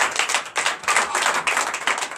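Congregation at a Sunday church service clapping in acclamation to Jesus, steady rhythmic hand claps from many people close by, with no voices over them.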